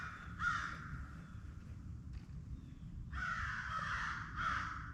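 Several crows from a nearby flock caw loudly in short bursts at a winter campsite, a pause, then a longer chorus of harsh calls, fairly close with faint background hum.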